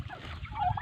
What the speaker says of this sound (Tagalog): May manok, mayroong pabo, at saka mayroong